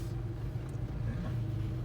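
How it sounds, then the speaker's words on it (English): A car approaches from behind on a narrow country road lined with hedges, amid a flock of sheep being herded by sheepdogs: a steady, low engine rumble holds at moderate level throughout, with no talk over it. "There's a car coming up behind"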